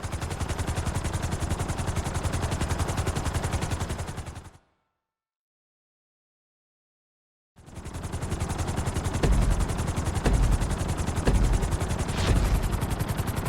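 A helicopter in Grand Theft Auto V flight school gives a loud, constant rotor thrum. It cuts out to silence for about three seconds midway, then returns just as strong.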